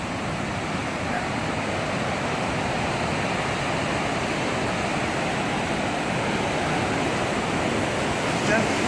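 A river rushes alongside a road in Washington State, a steady, broad roar of flowing water that holds at an even level throughout, with no talk over it.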